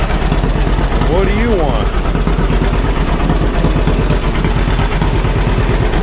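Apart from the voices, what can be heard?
two-cylinder John Deere 50 tractor engine running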